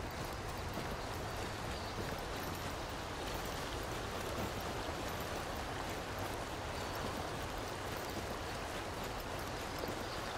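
A waterfall in the fishing game Call of the Wild: The Angler rushes as a steady, dense broadband roar that holds constant throughout with no other sounds.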